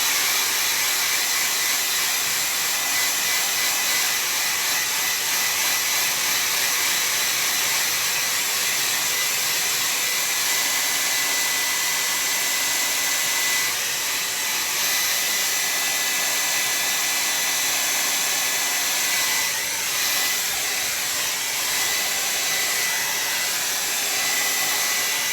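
Hair dryer blowing on wet paint during a painting session: a loud, steady, close-up whooshing whine that runs without a break the whole time, with slight shifts as the dryer moves.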